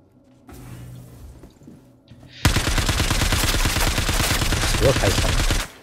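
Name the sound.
gunfire in Star Citizen video game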